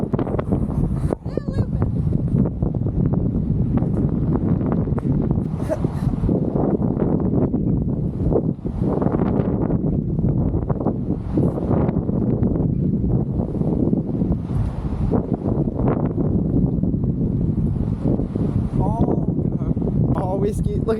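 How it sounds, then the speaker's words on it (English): Wind buffeting the microphone at a park on a cold, windy day: a constant loud, rough rumble with gusty swells filling the whole stretch, drowning out everything else. "Just a little bit wind."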